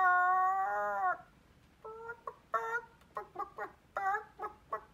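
A person vocally imitates a chicken, starting with a drawn-out, wavering crow and following with a string of short, choppy clucks. The voice is close and fairly quiet.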